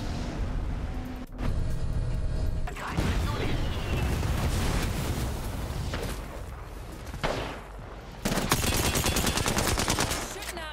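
Gunfire in the battle royale game Apex Legends, rapid automatic bursts and sharp shots layered over continuous in-game noise, loud and close, with a short break before another burst.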